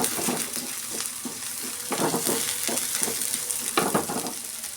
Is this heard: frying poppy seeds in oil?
yes